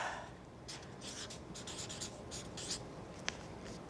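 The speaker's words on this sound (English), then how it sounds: "So we'll write lamp." Pen or marker strokes write a single word by hand on a surface in short scratchy bursts, close and quiet, with a light tap near the end.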